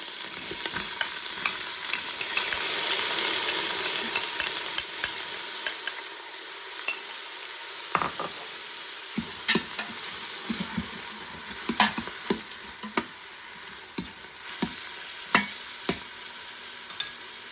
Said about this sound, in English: let onion cook little bit till like golden brown